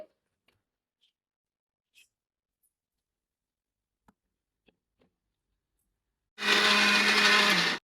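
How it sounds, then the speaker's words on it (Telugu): A mixer grinder runs with a loud, steady roar for about a second and a half near the end, blending oil into a creamy mix for wheat flour biscuits, after mostly silence with a few faint ticks. "ఆయిల్ వేసేసుకొని క్రీమీ లాగా అనమాట మొత్తము గ్రైండ్ చేసుకోవాలి"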